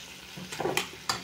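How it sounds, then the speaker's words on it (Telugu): Tomatoes and green chillies for a mint chutney are stirred in a pan over a low flame, with a soft sizzle and two or three quick scraping strokes close by, no talking. "టమాటీ, పచ్చిమిర్చి అన్నీ బాగా వేగిపోయాయి"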